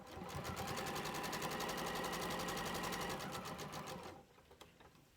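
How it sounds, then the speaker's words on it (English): A sewing machine stitches fabric up to a pin with a fast, even mechanical whir of rapid needle strokes, loud and close for about four seconds before stopping abruptly, followed by a few faint clicks. "So I sew right up to the pin."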